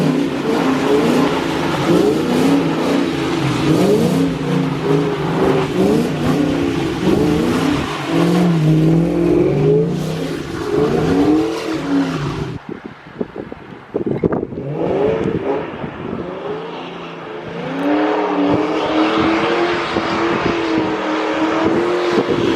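Ford Mustang engine held against the rev limiter, a loud, close, stuttering blare that bounces rapidly at the cutoff for long stretches, briefly drops away near the middle, then climbs back into sustained limiter bouncing.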